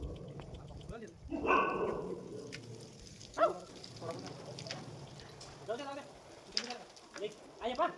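A dog barks a few times at a distance while people talk quietly nearby and birds coo in the background.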